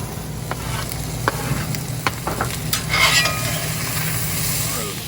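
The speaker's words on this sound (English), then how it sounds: "I'm sauteing the onions, the peppers, and have added in the beef" Onions, peppers and beef sautéing in a pan at a campsite, a steady close sizzle and hiss with scattered crackles and a few stirring scrapes, running evenly throughout.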